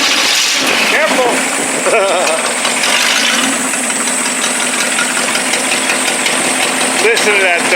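A 1956 Lincoln Y-block engine runs loud and close with a continuous rough, pulsing rumble, and voices are heard over it.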